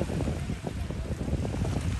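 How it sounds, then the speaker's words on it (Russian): Wind gusts blow steadily by the open ocean, a continuous low rushing roar with buffeting on the microphone and no speech. "Ветер как подует."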